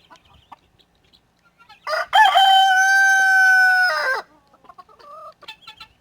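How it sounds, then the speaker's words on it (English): A rooster in a garden gives one loud, close, drawn-out crow lasting about two seconds, with a short lead-in. Softer clucks and small noises come before and after it. "You gonna crow for me?"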